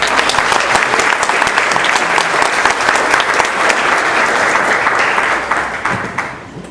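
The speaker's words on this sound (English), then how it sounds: "I think they deserve a round of applause right about now." Loud, sustained applause from a banquet audience honoring the caterers, dense clapping filling the room for several seconds before tapering off at the end.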